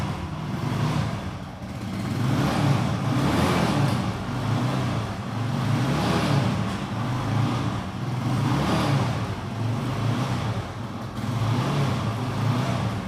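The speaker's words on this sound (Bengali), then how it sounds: "দেখেন গাড়ি এখনও চালু আছে, এত সুন্দর সাউন্ড দেখেন, মধুর মতো সাউন্ড।" A first-owner TVS Apache RTR 2V motorcycle idles nearby with a steady, even engine rumble that gently pulses and surges without pause, and no one speaks.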